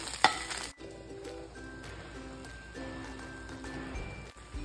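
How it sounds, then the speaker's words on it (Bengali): An egg frying in a pan, a faint steady sizzle with a few light clinks and scrapes, quiet and close with no voices. "দিয়ে ডিমটাকে আমি ভেজে নেব।"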